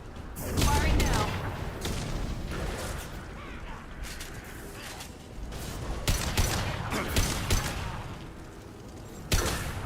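Weapons fire in a Mass Effect 2 firefight comes in repeated bursts of sharp shots and metallic impacts, loud and close, spread unevenly across the clip with combat voices mixed in.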